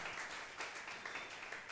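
Church congregation applauding together, a dense, steady patter of many hands clapping at close range for under two seconds.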